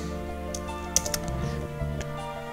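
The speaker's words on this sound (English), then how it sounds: "Damn German keyboard." Keys clacking on a German computer keyboard in quick irregular bursts, fairly close, with sharper individual strikes standing out over a steady background hum of game music.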